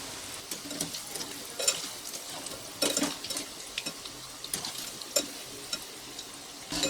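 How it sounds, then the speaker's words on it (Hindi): Pakoras deep-fry in hot oil, a soft continuous sizzle broken by scattered clinks and scrapes of a utensil stirring and turning them in the pan, fairly close and without talk. "इसी तरह हम और पकौड़ों या भजी को तल लेंगे।"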